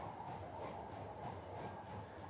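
A train runs steadily in the EEP rail simulator game, a continuous rumbling rolling sound with faint rhythmic clatter, moderately quiet and uninterrupted by talk.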